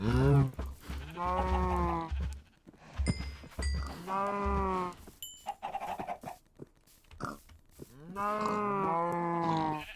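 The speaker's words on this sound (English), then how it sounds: "Hello, cows." Cattle mooing in a farming video game, several long, loud, tonal moos in a row with short pauses between them, close and clear with no talking over them.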